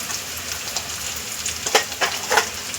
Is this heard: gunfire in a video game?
no